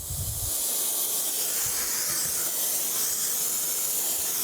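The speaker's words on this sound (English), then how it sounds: "turn my camp stove on" A camp stove burner, lit while a torch is used to melt Babbitt for bearings, gives off a loud steady hiss. The hiss is close and continuous, with a few low thumps near the start.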